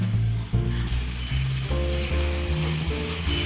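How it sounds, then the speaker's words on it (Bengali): Fried crabs land in cooked masala with potatoes in a pan, setting off a loud continuous sizzle and bubbling close up, broken by a few stirring jolts. "এবার এর মধ্যে আমরা ভেজে রাখা কাঁকড়াগুলো দিয়ে দেবো।"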